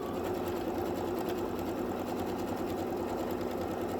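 A sewing machine runs continuously at a 3.0 stitch length, stitching a pocket onto a machine cover with a steady, fast mechanical whir and rhythmic needle chatter, close up and without talk.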